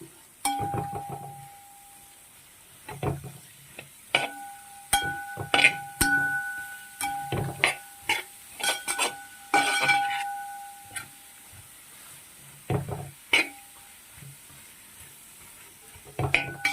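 A spoon stirs sliced onions in a hot pan for an Easter beef curry, giving soft sizzling with repeated scrapes and clinks of metal against the pan at an uneven pace, close by.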